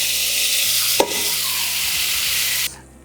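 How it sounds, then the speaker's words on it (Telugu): Curry leaves and spices crackle loudly in hot oil in a pan for a village-style tempering. A continuous close sizzle with a sharp burst early on cuts off abruptly near the end, with no voices. "తాలింపు వేసుకోవడం."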